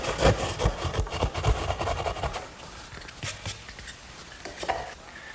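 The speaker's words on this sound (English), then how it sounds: "my 10-point crosscut saw does a good job finishing up the corners" A 10-point crosscut hand saw works through the corners of a wooden Shaker step stool with close, rhythmic rasping strokes that soften toward the end.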